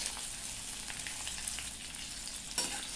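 A finely chopped medium onion frying in hot oil with tempering spices for a fish curry, giving a constant close hiss and crackle with a small pop near the end, no talking.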